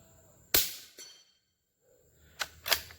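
A suppressed Ruger American Ranch rifle in 300 Blackout fires a single offhand shot, a sharp, fairly close crack with a short tail, followed by a couple of quieter clattering handling sounds.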